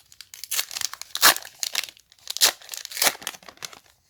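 A One Piece Burger King trading card booster pack is torn open and crinkled, several sharp bursts of tearing and crumpling foil close up, with brief pauses between them and no talking.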